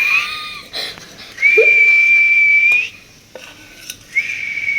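A person's mouth imitates a pressure cooker whistle in a home kitchen, giving a couple of sustained, loud, steady whistling tones with short breaks, mixed with light clinks of pots and utensils.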